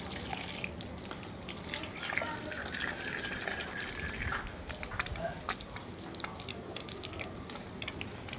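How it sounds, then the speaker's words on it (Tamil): Water splashes and patters steadily onto leaves and soil, a continuous gushing pour nearby with faint background noise. "செடி எல்லாத்துக்கும் ஊற்றியாச்சு."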